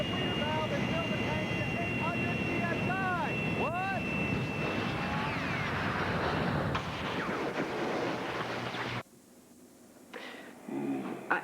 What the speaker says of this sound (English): We can if we give everyone jet propulsion packs.